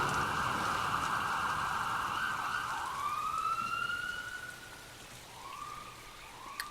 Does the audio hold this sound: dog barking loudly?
no